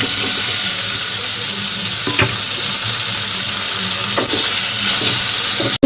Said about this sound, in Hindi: अब मैं इसमें उबले हुए आलू डाल दूंगी।